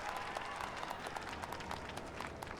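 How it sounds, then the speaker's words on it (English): Applause from a crowd in the video game Final Fantasy XIV, a steady patter of many claps, moderately quiet and continuous without speech. "Clap, clap, clap, clap, clap, clap, clap."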